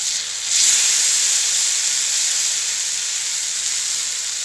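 Vanjaram fish frying in hot oil in a pan, a steady loud hiss and sizzle that swells slightly after a moment and holds evenly throughout, with no talking.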